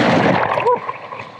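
Ocean waves splashing and churning around a body surfer in the surf off Bali, a loud broadband wash up close that fades quickly, with a brief burst partway through.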